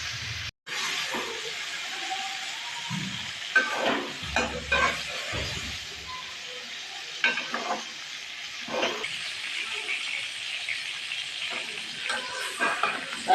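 Eggplant and chicken fry in a pan with turmeric, giving a steady close sizzle broken by scraping stirs of a spatula against the pan throughout.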